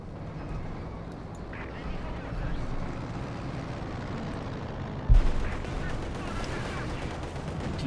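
A Pak anti-tank gun in Company of Heroes 2 fires a single sharp, loud shot partway through, set against a low rumble of distant battle ambience while a commentator talks throughout.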